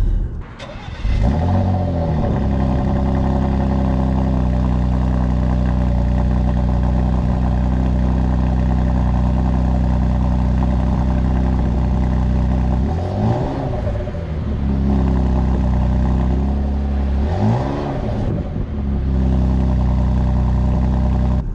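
A Porsche Macan S is driving, its engine and exhaust giving a steady mid-low drone from inside the car, with a few swelling revs as it accelerates through gears, and no voices.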